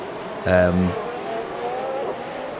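An F1 race car in the Assetto Corsa racing game at a Japanese Grand Prix: a brief loud engine whine sweeps past, then fades to a lower, steady motor drone.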